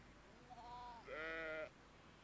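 A played sheep bleat sound effect: a single tonal baa in two parts, a shorter lower call rising into a louder, brighter second bleat, heard alone and close with no talking.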